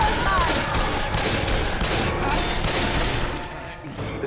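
Rapid gunfire from Left 4 Dead keeps going for several seconds, a loud continuous volley of close shots with sharp repeated cracks, then breaks off near the end.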